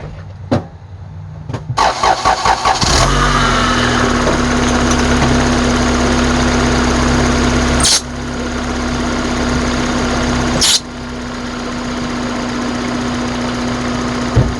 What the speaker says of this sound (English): So I'm going to start the engine here